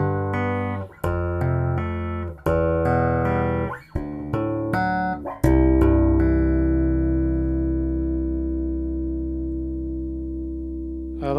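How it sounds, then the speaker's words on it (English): Chapman Stick tapped with both pickups switched out of phase, giving a thin, hollow tone with ringing overtones; a run of quick plucked notes builds to a final chord that sustains and slowly fades, close and clear with no talking. "I love hearing all those harmonics over-ringing in this out of phase position"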